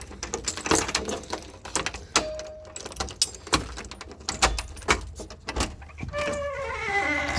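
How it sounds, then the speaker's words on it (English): Keys jangle and clink near a small workshop door, followed by scattered clicks and knocks of a lock being worked, with a brief squeak at the end. "And here now I just have to unlock the door."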